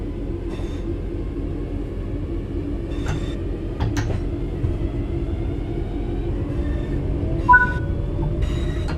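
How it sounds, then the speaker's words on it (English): A train rumbles steadily along the track in the video game Train Sim World 4, with a low, continuous drone, with occasional clanks and faint squeals rising over the noise. "Let's get the train moving and see it all working."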